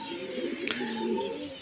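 Pigeons just settled in a loft give soft, low cooing calls, faint and close, with a brief higher chirp partway through against a quiet background.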